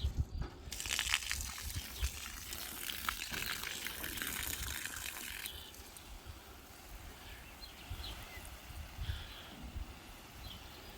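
A Parkside PHWW1000 water pump pushes water in a steady, rough gushing rush. The flow is louder for the first few seconds, then settles to a quieter continuous wash.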